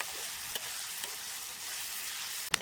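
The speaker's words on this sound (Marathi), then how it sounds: "हळद असं फिरवत राहायचं." Turmeric being stirred in a frying pan of hot oil with chutney for a Marathi karutle wild-vegetable dish, giving a steady, soft sizzle with a few light scrapes of the spoon and one sharper clink near the end.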